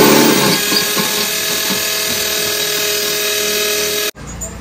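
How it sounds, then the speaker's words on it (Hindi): A drill fitted with a cutter bit grinds through body filler on a Scorpio's bodywork with a steady, close, high whine and a gritty cutting rasp, then stops abruptly near the end. "तो अभी ड्रिल के आगे ये कटर लगाया है, तो कटर के साथ इसकी फ़िलहाल कटिंग करते हैं"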